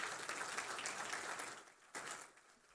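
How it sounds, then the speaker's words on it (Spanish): Applause from a church congregation during a worship service, a faint, dense wash of clapping that thins out briefly near the end and then swells again. "Denle un aplauso fuerte al Señor"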